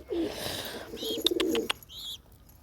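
A pigeon just caught by hand coos in a few soft, throaty bursts at close range, with a brief flutter and some higher chirps in between, and no talking.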